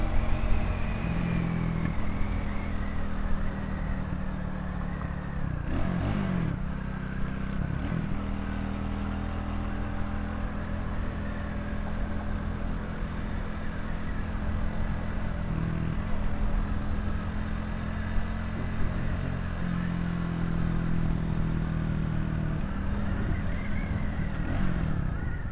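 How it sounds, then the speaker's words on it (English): Motorcycle cruising along a beach road, its engine droning steadily and loudly up close with a continuous low rumble and wind noise, a brief louder clatter midway. "Ain't nothing better than cruising the beach on a motorcycle in a bikini."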